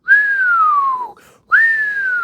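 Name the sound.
person whistling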